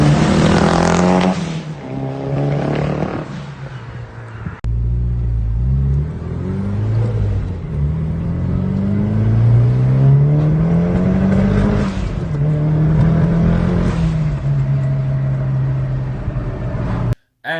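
A Nissan S15 with a coil misfire revs repeatedly, the engine climbing and falling in pitch with a rough, stumbling top end, loud and close, heard through a played phone recording that cuts off at the end.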